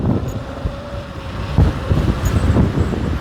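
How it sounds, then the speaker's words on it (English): Gusty wind buffeting the microphone while riding a Nanrobot LS7+ electric scooter on a very windy day, a constant low roar with irregular thumps and rumble, loud and close, no voices. "It's super windy today"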